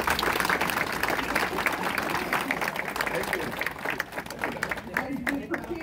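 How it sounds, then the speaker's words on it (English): An audience at a forum for school administrators applauds in a hotel meeting room, a dense patter of clapping that gradually thins and fades toward the end, with some voices mixed in. "Let's give him a round of applause."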